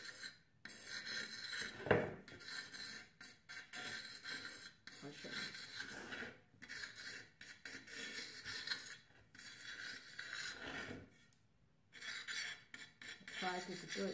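Drawing on a Surface tablet gives a scratchy rubbing and scraping of the pen tip in quick strokes, close and faint, with brief pauses between bursts.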